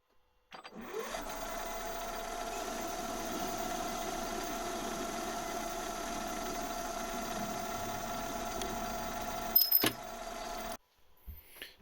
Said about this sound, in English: So I will part this off in the lathe.